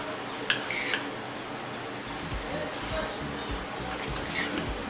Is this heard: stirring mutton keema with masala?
yes